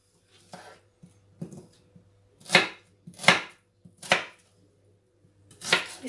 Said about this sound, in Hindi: इस तरह कटिंग करेंगे तो जल्दी जल्दी हो जाएगी।